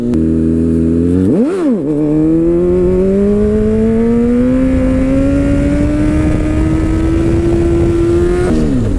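A Honda CBR600RR or CBR1000RR sport bike engine is started and warms up close by, giving a brief blip of revs and then a loud, steady idle whose pitch rises slowly as it settles.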